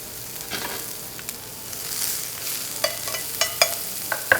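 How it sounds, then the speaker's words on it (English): Onions and pancetta sauté in a hot pan, crackling and sizzling softly with scattered sharp pops and stirring scrapes that grow more frequent toward the end, close by and with no voices. "That sizzling sound is the sound of a great saute."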